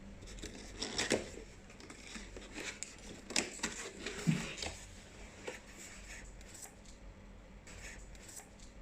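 Packaging of a new 1000-watt Wansa multifunctional kitchen machine with blender is opened, with faint rustling, crinkling plastic and scattered sharp tearing and scraping sounds spread over several seconds.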